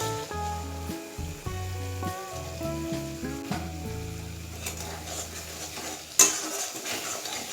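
Chopped tomato tossed into a pan of sizzling spice masala for a Bengali-style chana paneer curry, with a steady frying hiss, a spatula scraping and stirring against the pan, and a sharp clank near the end.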